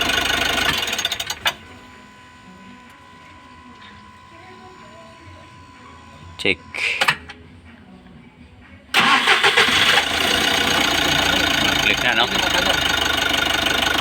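A Mitsubishi L300 with a 4N14 diesel engine runs loud at first, drops to a quiet stretch with a couple of brief clanks, then settles back into a steady, even idle.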